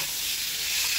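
Spice masala frying in a pan for a pointed gourd and prawn curry, a steady close hiss of sizzling with no pauses or voices.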